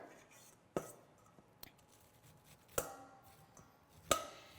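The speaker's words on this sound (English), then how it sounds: "It's great to cut these off the cob into a bowl, less of a mess for sure" A knife cuts corn kernels off the cob into a bowl in a home kitchen, giving four sharp, separate chopping strikes at uneven intervals against a quiet background.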